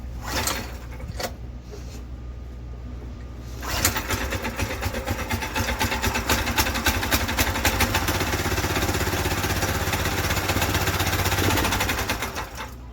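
A Predator 212 small engine fitted in a Volkswagen Baja Bug starts after a brief quiet stretch, then runs loud and steady with a rough, rapid putter that holds to the end before easing slightly.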